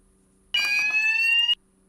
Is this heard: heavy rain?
no